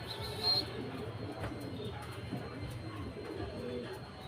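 Racing pigeons at a loft during a race arrival coo softly in low, repeated murmurs, close and fairly quiet, over a faint background hum.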